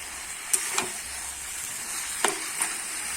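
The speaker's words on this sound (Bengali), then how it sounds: "দিয়ে কিন্তু আমি ভালো করে সবকিছু আবার কষিয়ে নেব।" Fried prawns and potato sauté with banana flower in a pan, giving a soft continuous sizzle broken by a few sharp scrapes and clicks of a stirring spoon.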